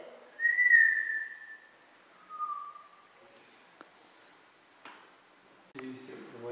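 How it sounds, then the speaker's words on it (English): A woman whistles in a quiet room: a long tone, then a shorter second one, followed by a sharp click, soft knocks and brief voices. "Do you think the way she whistles is funny?"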